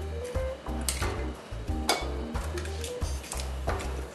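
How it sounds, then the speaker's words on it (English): A whisk beats sugar with eggs in a bowl for pancake batter, quick rhythmic strokes clinking against the bowl, close and clear with no talking. "the way I'm going to do is to mix my sugar with my eggs"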